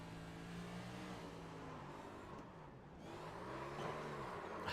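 Race car engine in the iRacing simulator at Richmond Raceway, a steady droning whine that rises and falls in pitch as the throttle is worked, faint and continuous.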